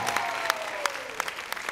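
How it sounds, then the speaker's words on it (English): An audience at a Mother's Day luau at St. Paul's gives a round of applause: a steady bed of crowd clapping with sharper claps popping out at a regular beat, fairly near, and a faint gliding tone underneath. "Give a round of applause."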